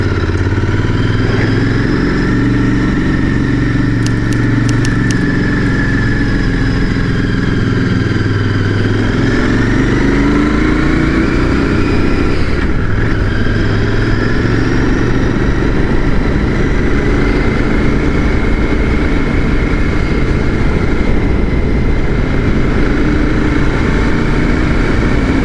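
A Royal Enfield Interceptor 650 motorcycle engine drones steadily while riding over hilly roads, loud and close throughout, its pitch rising and falling with throttle changes and engine revs, with constant wind rush and no voices.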